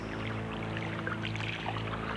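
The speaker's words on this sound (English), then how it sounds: "Waves, quiet waves." Quiet ocean waves make a steady, soft, continuous wash with no breaks and no voices.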